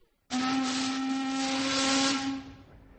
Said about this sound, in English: The steamer whistle screeched